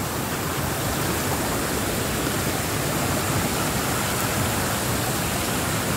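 A large volume of water rushes through a spot near a drinking-water project dam where normally only a small trickle runs, making a steady, dense, close roar that stays loud and unbroken throughout, with no voices.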